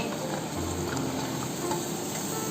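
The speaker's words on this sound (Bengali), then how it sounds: "সব গাজর ক্যাপসিকাম যা আছে সব একসাথে নেড়ে ভেজে দেবো" Carrots and capsicum stir-frying together in a pan, giving a steady close sizzle throughout with light scraping and tapping from stirring.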